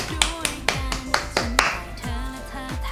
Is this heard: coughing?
no